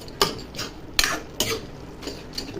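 A utensil mashes cooked taro leaves with shrimp (chingri kochur shak) in a pan, giving four or five irregular clinks and scrapes against the metal over a soft background.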